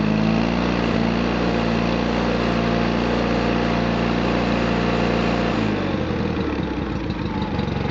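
A John Deere 318 lawn tractor engine idles with a steady, close mechanical hum, then shifts sharply as the throttle opens near the end, turning rougher and louder. No speech.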